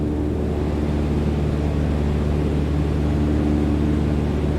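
Steady, droning airplane engine in Microsoft Flight Simulator 2020, a continuous low hum with strong tonal bands holding at an even, loud level throughout with no other sounds.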